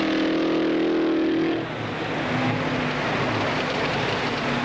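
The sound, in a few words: Novi supercharged V8 race car engine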